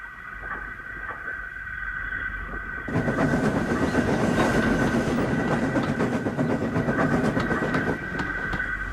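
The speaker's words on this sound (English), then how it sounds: "the nameless engine was sent onto the far line into the yard" A steam engine runs on rails into a yard, heard as a steady rolling rumble with a constant whine that swells louder midway and then eases, with faint rhythmic clicking over the tracks and no voices.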